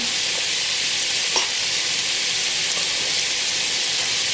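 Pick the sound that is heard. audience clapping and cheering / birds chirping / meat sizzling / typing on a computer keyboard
meat sizzling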